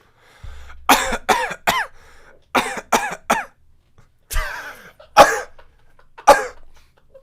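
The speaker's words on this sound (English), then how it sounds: "Sorry, my coughs sound different." Repeated bursts of coughing in clusters of two or three sharp coughs, separated by brief pauses, close and fairly loud with no talking.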